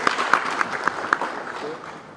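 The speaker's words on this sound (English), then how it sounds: "Another round of applause, please." Audience members at a Kenyan government sports ministry event give another round of clapping, a few sharp nearby claps over a broad patter that fades out toward the end.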